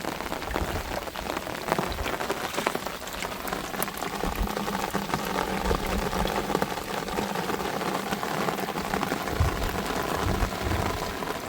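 Steady rain falls during monsoon fishing outdoors, a dense, even hiss of drops on surfaces running throughout, fairly close, with no talk.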